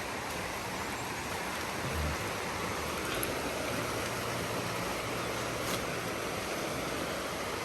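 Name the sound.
river flowing water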